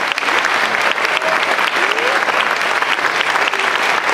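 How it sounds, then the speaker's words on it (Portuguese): Loud, dense audience applause for a big band at a 2013 concert, a continuous roar of many hands clapping with faint crowd voices mixed underneath. "forte aplauso para os Big Band!"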